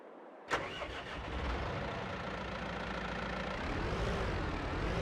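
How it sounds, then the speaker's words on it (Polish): A John Deere tractor's engine cranks and catches with a sharp start, then settles into a steady, rumbling run, close and continuous. "No to pokaż, jak to chodzi ten ciągnik."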